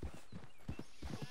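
A horse's hooves clip-clop at a steady walking pace in Red Dead Redemption 2, clear close rhythmic pairs of hoof strikes over a quiet background.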